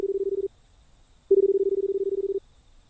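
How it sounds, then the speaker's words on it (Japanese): Payphone dialing tones from a public phone booth: two steady electronic beeps, a short one then a longer one after a pause, close and clear over a quiet background. "ちょっと待って、田中に3回かけてみるわ。"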